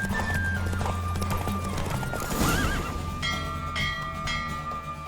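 Horse galloping at race speed in The Witcher 3: Wild Hunt, with steady hoofbeats and whinnies over a continuous game soundscape, loud and close throughout.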